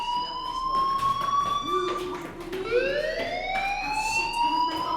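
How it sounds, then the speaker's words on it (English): A school fire alarm sounds in the video game Life is Strange, a loud electronic wail with tones sliding up and down, continuous, with voices speaking over it. "do you hear that fire alarm? That means you should be outside."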